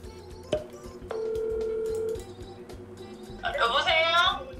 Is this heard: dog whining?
no